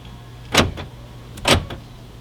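Door locks on a 2006 Toyota Camry cycling after key fob pairing, two sharp mechanical actuator clunks about a second apart, close and clear against a quiet background.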